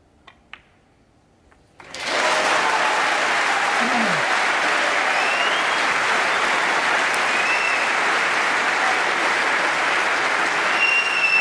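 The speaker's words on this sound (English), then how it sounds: "what a fantastic round of applause for just potting that red there" After a brief near-silence with a few faint taps, a snooker audience at the 2018 Masters semi-final breaks into sustained, loud applause that continues steadily without letting up.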